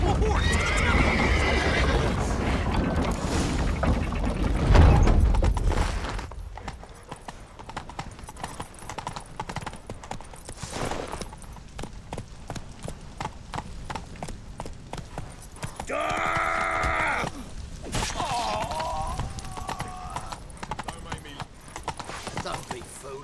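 Horses gallop with steady clip-clop hoofbeats and neigh in The Witcher 3 video game, a loud whinny standing out early and more hooves and whinnies following, with shouted in-game voices over the action.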